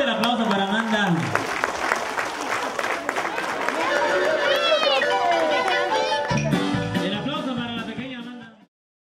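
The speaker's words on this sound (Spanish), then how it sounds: "Fuerte el aplauso para Amanda" Children clap for Amanda at her third birthday party, a busy patter of applause mixed with lively voices and chatter throughout, fading out at the end.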